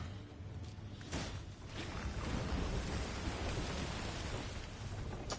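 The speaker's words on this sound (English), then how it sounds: "torrential rain lasts for like 4 turns" Torrential rain in the fantasy game Thronebreaker hisses steadily with a few soft thunder-like rumbles, heard alone at a faint level.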